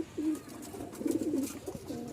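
A pair of pigeons at a Bangladeshi loft gives several soft, throaty coos close by, coming in short rolling phrases with brief gaps between and no voices.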